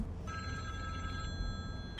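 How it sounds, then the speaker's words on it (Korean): A telephone rings with a steady electronic trill, moderately loud over a low background hum, the tone holding for about a second before easing off. "그렇게 퇴근하고 있던 에론에게 걸려온 전화"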